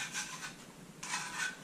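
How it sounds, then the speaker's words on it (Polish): Pencil scraping across end-grain wooden boards while each piece is marked on one side for a butcher block cutting board, two short bursts of quiet rubbing strokes, close and alone. "Na każdej desce z jednej strony biorę ołówek i znaczę"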